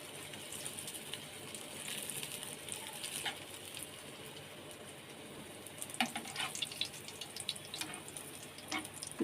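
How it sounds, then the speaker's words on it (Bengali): Bread slices sizzle in melted ghee in a pan, a soft steady frying hiss with small crackles that pick up toward the end, heard close and fairly quiet with no talk. "এখানে একটা একটা করে পাউরুটি ছেড়ে দেবো"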